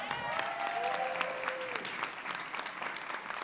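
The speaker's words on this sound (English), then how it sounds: "Give them all a round of applause." Steady applause from an audience at a leadership institute demo day, a continuous wash of many hands clapping at even loudness, with a brief voice or whoop rising through it near the start.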